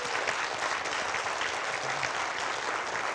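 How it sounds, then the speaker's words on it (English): Steady applause from an audience at a youth entrepreneurship celebration honouring Venture for America fellows, dense continuous clapping filling the room throughout. "Let's give a round of applause."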